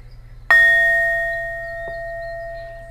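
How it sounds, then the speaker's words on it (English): A single bell rung once, giving a bright, clear ding that sustains and slowly fades, with a faint soft knock partway through, in a quiet room. "Okay, I'm going to ring the bell."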